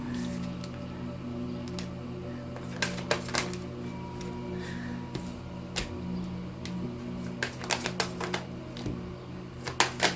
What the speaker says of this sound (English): Why am I having a hard time shuffling these cards when I didn't before?